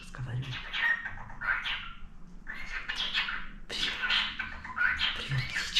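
A pet parakeet chirps and chatters in close, repeated squawky bursts, with brief gaps between phrases, while someone speaks softly nearby.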